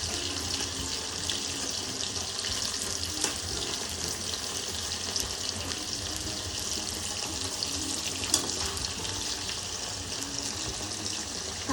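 Chicken pieces for chili chicken fry in a pan with a continuous, steady sizzle, a dense crackling hiss at moderate volume with occasional louder pops and stirring sounds.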